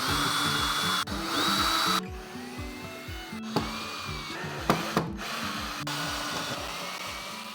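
A power drill unscrews hinges from 90s oak kitchen cabinets in several short whirring bursts with brief pauses and small clicks between runs, loud and close.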